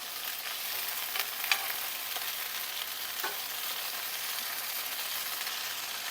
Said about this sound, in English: And that'll kind of thaw and saute along with the green beans. I kind of want to get a little bit of charring on them.